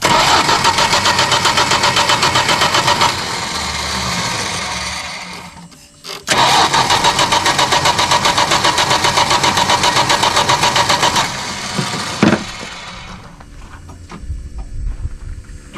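A barn-find 1973 Dodge Dart Swinger engine cranks and catches, running loud and rough, cuts out briefly, restarts to a steady roar, then settles to a quieter uneven idle.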